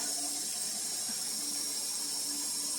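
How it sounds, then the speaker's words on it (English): Water pours steadily from a tap into a big pot for Haitian rice and beans, a faint continuous hissing flow with no talking. "you just add your water in"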